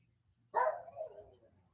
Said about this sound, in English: These are dogs trying to comfort me.